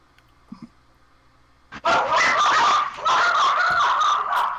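A dog barks in a loud, close, continuous burst of repeated barks after a short quiet lead-in with a faint brief sound.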